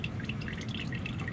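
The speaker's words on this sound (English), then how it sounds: "Wow, that one is dripping." Engine oil drips from the filter of a V10 Ford Excursion during an oil change, a quick, irregular patter of small drops over a soft, constant background.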